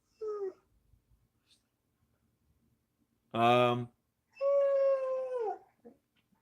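A pet dog howls and whines in short, tonal bursts, close and fairly loud, separated by quiet gaps in an indoor room.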